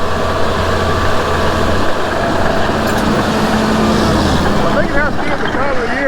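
A Komatsu 850V bulldozer engine runs steadily on a pond construction site, a continuous low diesel drone that stays loud throughout, with faint chirping sounds near the end.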